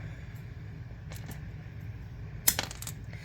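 A single die tossed for a tabletop game lands with a sharp clatter and a few quick bounces settling out, set against a steady low background hum with faint earlier taps.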